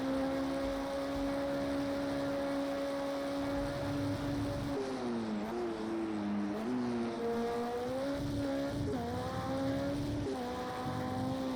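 LMP1 prototype race cars in a racing video game at the Algarve circuit, engines droning steadily and loud, pitch dipping and rising through gear changes and revs with no talking over them.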